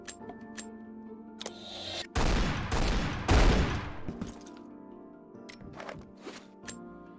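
A quick burst of several loud gunshots in a Tomb Raider game, fired close together in the middle of otherwise quiet play with faint ticks and clinks around them.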